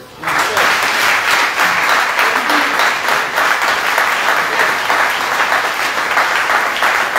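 Congregation in a church service breaking into sustained, dense applause that begins abruptly and holds steady and loud throughout, with a faint murmur of voices mixed in.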